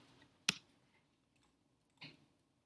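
Computer mouse clicking at a desk, one crisp close click followed by a few fainter clicks about a second later, quiet room with no talking.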